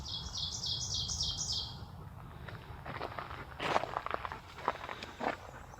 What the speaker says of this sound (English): The Canada Warbler, a small songbird, 12 to 15 centimeters long, with a thin pointed bill